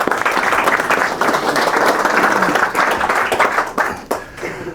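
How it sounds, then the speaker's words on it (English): A ministry gathering's audience claps in a dense, steady round of applause that stays loud for several seconds before thinning out at the end. "how about a nice round of applause for Mitch Roberts?"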